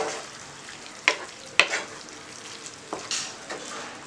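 Mutton pieces tossed with cumin in a hot pan sizzle softly while a spoon stirs, scraping and knocking against the metal in a few sharp, close clicks over a low frying hiss.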